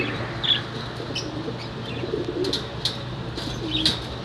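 Crested John Arden racing pigeons, a long-distance breed, coo softly in a loft, with low rumbling coos under brief chirps and light rustling, no talking.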